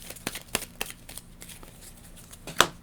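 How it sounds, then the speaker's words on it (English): Cards from the Marvel Legendary deck-building game being shuffled at close range, a few sharp riffling snaps and soft flicks spread over a few seconds, with no talking. "So now we're going to shuffle."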